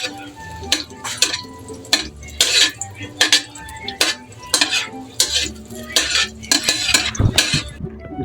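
Butter being stirred as it melts in a pan, before flour goes in: repeated metallic clinks and scrapes of a utensil against the pan in irregular bursts, close and fairly loud, with faint sizzling underneath.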